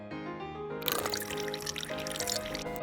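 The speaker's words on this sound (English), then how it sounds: "Add holy water." Water is poured into an ultrasonic cleaner for washing Sega Mark III HPD-200 paddle controller parts, a steady splashing pour starting abruptly after a quiet moment and continuing close and fairly loud.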